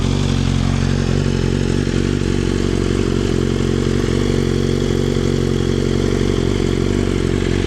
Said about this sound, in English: When you start it, it just goes plop, but it keeps it at a low RPM, about 1500 RPM.